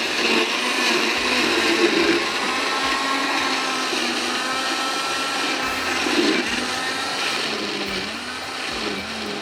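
A kitchen blender grinds whole spices with green chilies, a loud continuous whirring roar with slight surges as the contents shift, close and with no talk over it.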